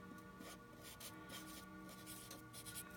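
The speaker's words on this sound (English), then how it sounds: "So we'll just write that over here as well." Writing on a board during a physics lesson: short scratchy strokes in quick bursts, fairly quiet and close, with no talking.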